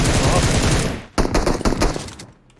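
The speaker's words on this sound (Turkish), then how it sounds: "Kanka son mermiyi de vurdum." Rapid automatic gunfire in PUBG Mobile: a loud, dense burst of shots runs for about a second, then after a short gap a second sustained volley that tapers off.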